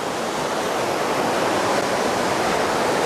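Stein Creek, also known as Last Chance Creek, rushes in a loud, unbroken hiss of flowing water that holds steady throughout, with no voices over it.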